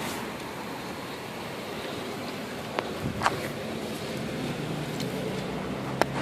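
Steady rain falls outside as a constant broad hiss, with a few faint clicks and taps from work on a garage door opener installation nearby.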